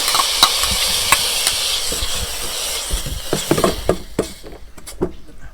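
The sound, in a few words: stir-frying in a pot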